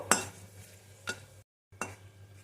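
Cardamom pods, a piece of cinnamon and a bay leaf fry in hot ghee in a pan, with a few faint spoon scrapes stirring over a soft background sizzle.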